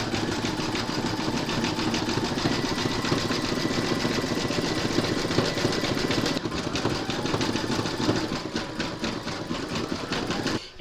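An embroidery machine runs a zigzag satin stitch around the raw edges of an appliqué letter on hooped fabric for patriotic bunting, a steady fast mechanical whirring hum that continues without a break throughout.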